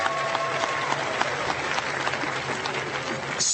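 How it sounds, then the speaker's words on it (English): A large crowd applauds steadily throughout at the 2018 Virginia Special Olympics Opening Ceremony, a dense, sustained clapping with no voices. "Let's give a big round of applause for the great support that law enforcement offers to"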